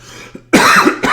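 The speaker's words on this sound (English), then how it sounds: "Excuse me, got a little cough" A person coughs twice in a short, close burst, the first harsh and sustained, the second a brief follow-up after a pause, with faint quiet background before it.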